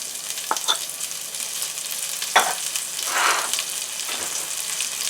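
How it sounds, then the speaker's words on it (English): Chopped scallions crackle and hiss in olive oil in a pan, a steady close sizzle punctuated by a few sharper spatters and a brief louder surge as they are stirred. "now we're going to saute the vegetables"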